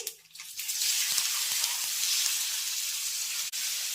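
Bites added to hot tempering of mustard seeds, asafoetida and curry leaves hiss loudly after a brief quiet start, a dense, steady sizzle that stays strong throughout with one short dip near the end.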